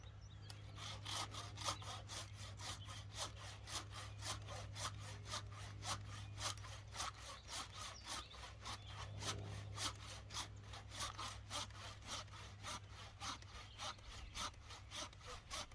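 A hand saw cuts through a tree trunk on a farm, with steady rhythmic back-and-forth rasping strokes, close and continuous for about fifteen seconds with no talking.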